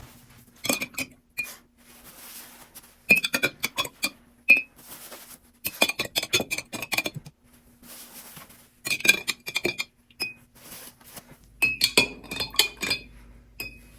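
A utensil stirs dye mixture inside a container, giving repeated bursts of bright clinking and scraping against the sides, close and fairly quiet, with short pauses between bursts and no voices.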